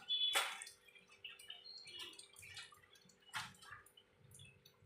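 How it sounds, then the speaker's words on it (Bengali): Water used to rinse a spice-grinding bowl is poured into a cooking pan for a pointed gourd dish, making a brief close splash and drip, then quieter trickles and another small splash, faint and without talking. "আমি সামান্য মশলা বাটা বাটি ধোয়া জলটা দিয়ে দিলাম।"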